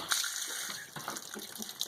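Water rushes steadily through a steam boiler as it is flushed and refilled, a continuous close gush with some splashing and no talk.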